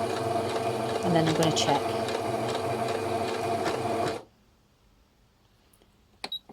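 A sewing machine runs steadily while stitching a blind hem on curtains, a fast continuous mechanical whir that halts abruptly, followed by a few soft clicks, with a voice speaking over it.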